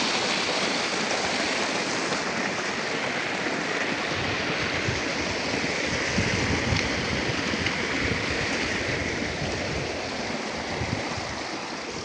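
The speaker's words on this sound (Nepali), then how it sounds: "सुरु भयो हाम्रो चाहिँ पानी लाउनु" Water rushes steadily while a garden is watered, a loud continuous splashing flow close by with no pauses and no voices.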